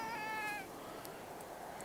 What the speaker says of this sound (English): You're not the same cat, are you?